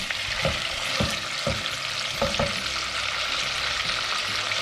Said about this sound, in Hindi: गोश्त को अच्छी तरीके से फ्राई करूँगा जब तक गोश्त का कलर चेंज ना हो जाए।